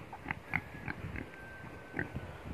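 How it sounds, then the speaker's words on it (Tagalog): Pig raised in a backyard pen in a Philippine barangay, giving several short grunts and snorts at moderate distance over a steady outdoor background, with no talk during the sounds. "Laki na yung baboy natin"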